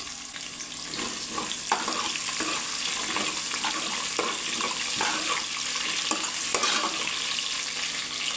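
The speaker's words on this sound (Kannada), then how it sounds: "ಇದನ್ನು ಚೆನ್ನಾಗಿ ಫ್ರೈ ಆದಮೇಲೆ ಒಂದು ಕಟ್ ಮಾಡ್ಕೊಂಡಿರೋ ಈರುಳ್ಳಿನ ಹಾಕ್ಕೊಳ್ತಾ ಇದ್ದೀನಿ" Chopped onions frying in oil inside a pressure cooker for vangi bath, a steady close sizzle with intermittent stirring scrapes and soft clatter running throughout, no voices.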